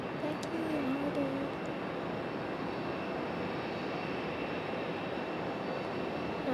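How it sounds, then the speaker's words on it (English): A United Boeing 737 airliner pushing back at Raleigh-Durham airport, a low continuous engine whine and rumble from a distance, even and unbroken, with a faint warbling tone near the start. "Got a United 737 pushing back."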